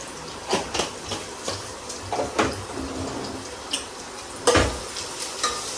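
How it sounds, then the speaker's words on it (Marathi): Onions, crushed garlic and cumin fry in a pan with a constant soft sizzle, punctuated by scattered clinks and scrapes of a spoon against the metal, with no voices. "दोन कांदे पण टाकून जाऊ आणि चार पाच लसूण ठेचून जिरा पण टाकून"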